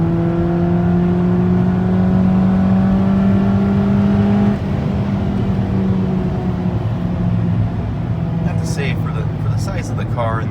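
A 2008 Ford Focus with a 5-speed manual gearbox drones steadily from inside the cabin, the engine note dropping sharply partway through as it downshifts, then settling at a lower hum with faint clicks near the end.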